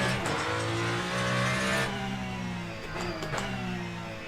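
A Ferrari race car engine in Le Mans Ultimate drones loudly at high revs, pitch rising and dipping through quick gear changes, with sharp shift clicks and no talking.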